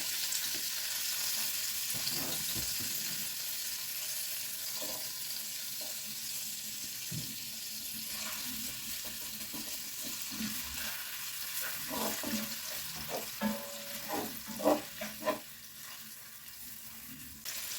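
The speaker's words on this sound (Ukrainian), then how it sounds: "Тушимо цибульку." Onion fries in oil in a pan with a soft, steady close sizzle, later joined by light scraping, stirring and utensil knocks.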